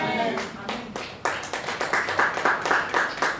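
An audience claps at a French-language talk on getting rich, starting with a few scattered sharp claps and building into steady, rapid clapping from several people, close and fairly loud.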